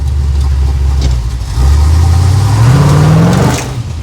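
A 327 hot rod engine revs loudly as the throttle is floored, a deep steady idle that drops, then rises into a climbing roar before falling back, close and without talk.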